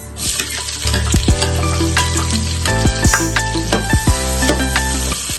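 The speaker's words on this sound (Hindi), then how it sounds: "एक कप ऑयल में थोड़ा सा ज़ीरा डालते हैं, 2 प्याज डाल देंगे" Cumin seeds and sliced onions frying in a cup of hot oil for masala okra, a loud continuous sizzle with sharp crackles and occasional clinks of a stirring spoon.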